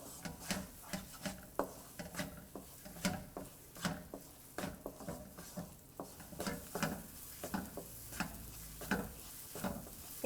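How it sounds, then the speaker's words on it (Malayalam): Masala paste for chicken vindaloo being sautéed in oil in a pan, with soft, regular scraping strokes repeating about every half second over a faint sizzle, quiet and close with no talking. "മുകളിലൊക്കെ എണ്ണ തെളിഞ്ഞു വരുന്നത് വരെ വഴറ്റണം"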